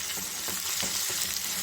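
Onions frying and being stirred in a pan while making a quick dosa-batter breakfast, a steady bright sizzle with soft scraping stirs pulsing through it, close and continuous.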